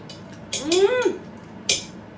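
A spoon clinks against a metal pot, then scrapes with a brief rising squeal, and clinks again a moment later.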